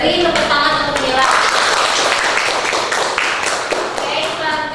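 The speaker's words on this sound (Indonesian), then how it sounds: "Beri tepuk tangan untuk Mila." Students in a school classroom clap for a classmate after her presentation, a lively burst of hand-claps mixed with children's chatter, strongest early and then slowly fading.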